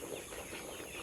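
Nourish layer hens, about 62 days old, cluck softly on a poultry farm, a faint, steady, low-level flock murmur under broad background noise.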